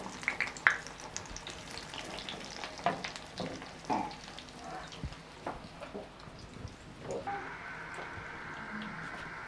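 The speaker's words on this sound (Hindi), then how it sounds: "मीडियम आंच पे इसको फ्राई करेंगे, तेज़ आंच पे नहीं करेंगे" Chicken donuts frying in oil over medium heat, a soft steady crackle and sizzle with scattered pops and clinks of a utensil, fairly quiet and close, with no voices.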